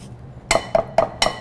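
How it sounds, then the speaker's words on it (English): Back of a metal spoon scraping the peel off fresh ginger root, heard as four short, crisp scrapes in a steady rhythm, close and fairly clear against a quiet kitchen background. "You could certainly use a peeler to peel your ginger before you zest it, but you can also use the back of a spoon."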